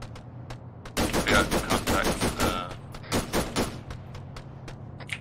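A rapid string of gunshots rattles in quick succession in a modern military video game, loud and fairly close, dying down to a few scattered shots.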